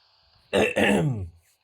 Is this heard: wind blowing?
no